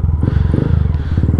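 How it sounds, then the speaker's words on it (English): A Honda Grom motorcycle engine revving hard, a loud, close, rapid pulsing exhaust beat with a mechanical clatter running through it. "I've revved this bike all the way up"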